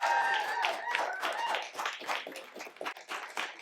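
Poetry slam crowd at a public library clapping and cheering for a performer, a lively burst of scattered claps with whoops and voices on top, tapering unevenly toward the end.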